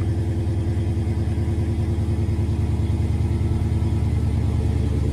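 A Dodge Challenger Scat Pack with a 6.4-liter Hemi V8 idles nearby with the engine running, a loud, steady, throbbing rumble with an even pulse throughout and no talking over it.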